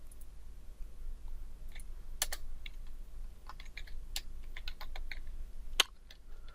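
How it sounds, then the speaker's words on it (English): Scattered clicks of a computer keyboard being typed on, irregular and fairly close, with a few sharper keystrokes standing out against a quiet room hum while a papercraft model is built. "Pressing the wrong keys will not be helping us."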